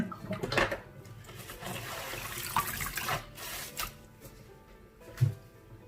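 Water being poured out after rinsing freshly picked spider flower greens for pickling, a splashing, gurgling stream that rushes for a few seconds and then tapers into drips and a final thump.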